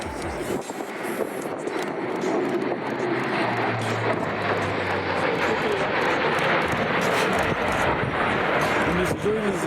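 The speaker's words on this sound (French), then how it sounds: "notre A400 s'est reconfiguré pour une mise en place de environ 400 km/h" An Airbus A400M military transport aircraft at an air show produces a loud, continuous turboprop roar that stays steady and close throughout.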